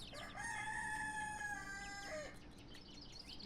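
A young rooster gives a thin, wavering crow lasting about two seconds, ending in a short cracked note, fairly close.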